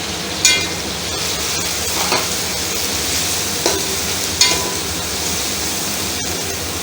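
Whole spices, bay leaves, cloves, cinnamon and cardamom, fry in a pot with a loud, steady sizzle, broken by a few sharp scrapes of a stirring spoon.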